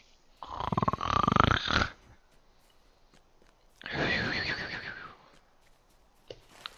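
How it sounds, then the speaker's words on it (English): A hobbit snoring in the Lord of the Rings Online video game, two long, loud, rasping snores separated by a quiet pause, with a faint click at the end. "His eye blinks shut, and the snoring resumes."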